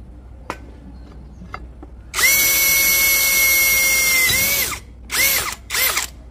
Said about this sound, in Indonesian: Enak aja mengebor besi dengan ketebalan 1 cm, nggak ada kendala ya